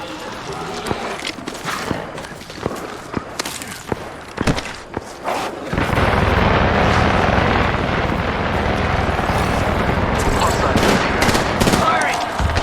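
Rapid bursts of gunfire in the video game Apex Legends during a Shadow Royale match, with sharp shots first, then a dense, loud, sustained barrage of firing and effects.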